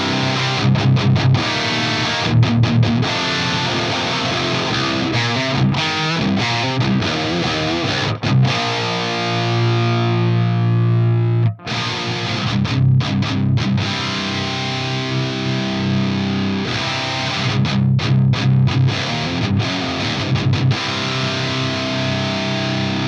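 Heavily distorted electric guitar through a Fractal AX8 Rectifier amp model with the mids turned up, playing dense palm-muted rock riffs and sustained chords with brief stops, loud and close with no talking.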